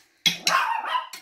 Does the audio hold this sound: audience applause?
no